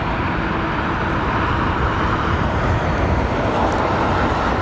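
A jet airliner executing a go-around at London Heathrow Airport, a steady, loud broadband engine roar that holds evenly throughout with no voices.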